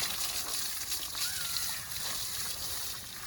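Water splashing and sloshing as a horse is bathed, a continuous wet spattering close by with faint voices in the background.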